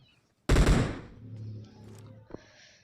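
Gunfire in a battle royale shooter game with M416 and AWM weapons: a sudden loud burst of rapid automatic shots that fades into a ringing tail, followed by a smaller sharp crack, with no talk.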